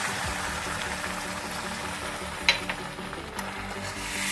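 Tomato paste fries with browned onions in a pan for a mustard tilapia curry, giving a constant close sizzle with a few soft stirring scrapes and a brief clink near the middle.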